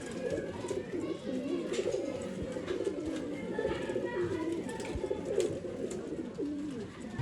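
Pigeons coo softly and repeatedly in a bird-keeping setting in Bangalore, low throaty rolling calls layered over one another at close range, with faint human voices murmuring in the background.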